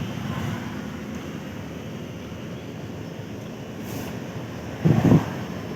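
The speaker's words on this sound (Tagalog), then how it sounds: "maririnig nyo lang yung ingay na electric fan" A steady, broad whooshing hum of an electric fan fills the clip inside a smoothly running Mitsubishi Fuso truck cab, constant and fairly loud, with a brief low thump near the end.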